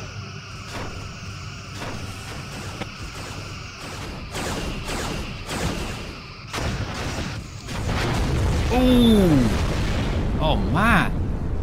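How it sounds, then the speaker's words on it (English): Chronoton torpedo impacts and weapons fire in a Star Trek starship battle game: a steady series of booming blasts over a low hum, building to louder explosions with descending sci-fi whooshes at the end, while a man reacts briefly. "those chronoton torpedoes ripped"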